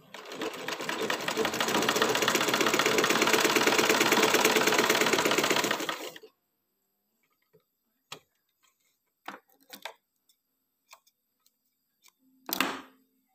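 A sewing machine stitches a test seam in one loud, continuous whirring run that lasts about six seconds and then stops. After that come scattered faint clicks and handling sounds, each one brief.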